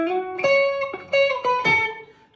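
A clean electric guitar plays a short solo lick, as played on 5/10/1978: several sustained, bending notes picked one after another, close and clear, with no voices.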